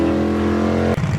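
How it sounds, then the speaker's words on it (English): Duramax diesel truck warming up in the pits at a bracket drag race, a steady close engine drone with strong low harmonics that cuts off abruptly near the end, replaced by a rougher, uneven idle. "warming up the Duramax, rolling coal in the pits"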